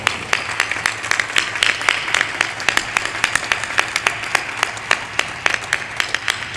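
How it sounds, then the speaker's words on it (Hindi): Sustained clapping from a crowd at a spiritual discourse, steady crisp claps of many hands carrying on evenly throughout without any voice on top. "जब जल पीऊं तो ताली बजाते रहो"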